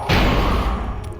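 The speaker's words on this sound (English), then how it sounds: "Go set off some explosions." A single loud explosion in Knights of the Old Republic, a sudden close boom that rolls into a rumbling decay over about a second, with no speech.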